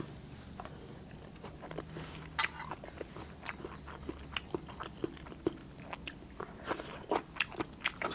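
Close-up eating of steamed catfish with blanched vegetables and young galangal: irregular crisp bites and crunchy chewing, loud and near, with no voices.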